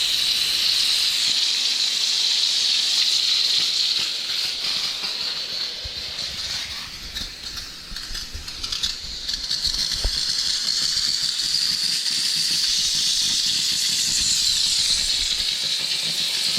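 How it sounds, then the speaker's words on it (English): A steam cleaner working on a car seat, shown removed from a used Infiniti G35, gives off a loud, continuous hiss with a brief drop in intensity midway and faint rattles underneath. "let me get this steamer up and running"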